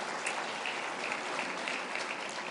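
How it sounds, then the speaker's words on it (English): Applause from an awards ceremony audience, a steady wash of clapping that holds evenly throughout with no voices on top. "another round of applause"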